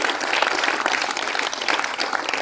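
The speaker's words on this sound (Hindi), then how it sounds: "इनके लिए वे तालियों के साथ स्वागत किया।" Brisk clapping from an audience at an annual award ceremony and cultural program greets an honoree, dense and even for a couple of seconds.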